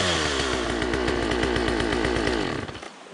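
A small chainsaw runs loud and close in a forest, its engine buzzing steadily before dropping off abruptly near the end.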